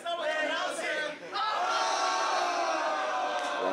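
A wrestling arena crowd jeers and yells at a wrestler in the ring, a loud roar of many voices that dips briefly, then swells back into sustained booing.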